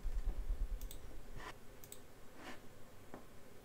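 Soft keystrokes on a computer keyboard come in a few sparse, quiet clicks spaced over a few seconds, alone against faint room hiss.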